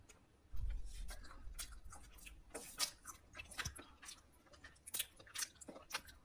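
Someone chews cream-filled bakery bread, producing close, quiet, irregular moist chewing and biting clicks in a calm room at night.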